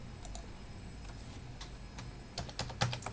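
Keys tapped on a computer numeric keypad while holding Alt to enter an Alt code, a scattered series of quiet close clicks with a few brisker taps near the end, over low background hum.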